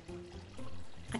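Kitchen sink tap running and filling a basin with water, a faint, steady pour and trickle close by with no talk.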